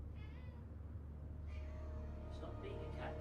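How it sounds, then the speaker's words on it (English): A pet cat meows at the door to be let in, a few short mews spaced across a couple of seconds over a low steady background hum, with a voice briefly present. "My pussycat is meowing at the door for him to come in."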